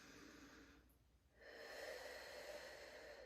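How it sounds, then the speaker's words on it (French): A deep breath during a yoga class: a quiet breath through the nose, then a pause and a longer, fuller inhale, close and soft with no talking. "Rapidement, une grande respiration."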